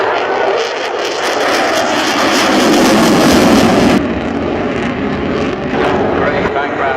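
Jet aircraft with afterburners roar loudly throughout an air show at Southport, a broad sustained rumble that swells and then drops sharply partway through, while a voice talks over it.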